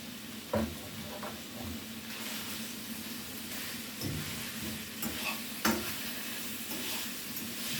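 Sliced Italian sausage links frying in olive oil in a pot, a steady sizzle broken by a few sharp stirring clatters and scrapes.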